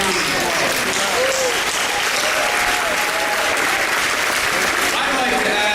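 Loud, sustained applause fills a political rally crowd at Century Village in Boca Raton, steady throughout with cheering voices and shouts mixed in.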